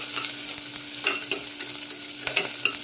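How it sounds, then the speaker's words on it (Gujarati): Onion sautéing over a low flame in a pressure cooker with oil, heard close as a steady soft sizzle broken by several scraping stirs, with a faint low hum underneath and no talking. "ડુંગળી એડ કરીને તેને સાંતળવાની છે, ધીમા ગેસે સાંતળવાની।"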